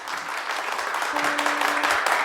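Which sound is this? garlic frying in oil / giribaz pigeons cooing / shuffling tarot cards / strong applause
strong applause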